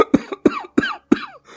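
Four sharp, close coughs come in an even rhythm, each with a brief rasping tail, followed by a short pause.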